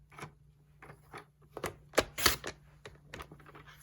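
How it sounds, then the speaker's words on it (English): A paper trimmer slicing card stock from a scored line out to the corner, a series of close, dry clicks and short rasping strokes at an uneven pace, with a steady low hum underneath. "So you'll be trimming from the scored line out to the corner."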